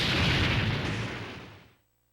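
A blast fired by X in the video game Mega Man X Command Mission lands as a single loud, broad burst that holds for about a second and a half, then cuts off sharply into silence.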